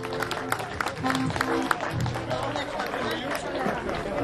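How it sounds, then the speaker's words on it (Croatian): An audience claps in sustained applause for a group of Croatian accordion players at their first public performance, dense rapid clapping with crowd murmur and voices mixed in. "Podržite nas jednim velikim aplauzom"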